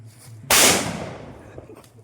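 A single firecracker bursts with a sharp, loud bang that decays into a brief crackling tail, releasing smoke, with quieter background noise before and after.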